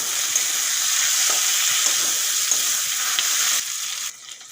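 Fried potatoes and panchkuli tossed in fish oil in a pan, a loud continuous sizzle with occasional stirring scrapes that drops off sharply near the end.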